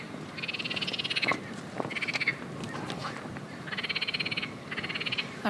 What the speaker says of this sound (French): Et les grenouilles, c'est bon.